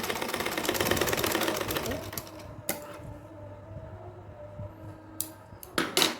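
A sewing machine runs steadily while stitching lace onto a small doll dress for a Laddu Gopal idol, a dense continuous whir for about two seconds before stopping, followed by quieter handling and brief clicks.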